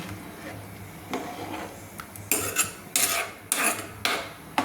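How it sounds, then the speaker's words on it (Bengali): Rice being stirred into a pot of milk for Bengali payesh, made with Badshabhog rice: a spoon scrapes and knocks against the pot in several short, fairly close strokes that come louder toward the end, with no talk. "চালটা আমি ঢেলে দিয়েছি, দিয়ে আমি নাড়ছি"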